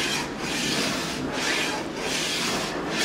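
A hand file rasps across a metal edge on a ski base, taking the edge down level with the base in long, continuous strokes with slight surges as each stroke turns, close and fairly loud.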